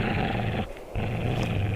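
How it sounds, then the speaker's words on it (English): An unseen wild animal in an abandoned place gives a low, rough, continuous growl that breaks off briefly and then resumes, loud and close. "There's something growling at me."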